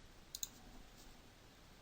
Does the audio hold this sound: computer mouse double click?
yes